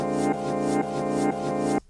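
A reversed sample of a starting note from a 1960s Dutch-Swedish singer-songwriter's recording, looped four times. Four even swelling tonal pulses each build and cut off abruptly, then stop.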